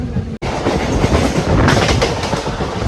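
Intercity Express train running from Thrissur toward Palakkad, a steady, loud rumble with rhythmic clickety-clack of wheels on rail joints, heard from inside the coach after a brief dropout near the start.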